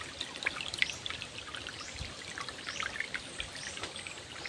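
A small forest stream trickles and babbles steadily near a bamboo grove, with soft continuous water splashing at close range and no voices.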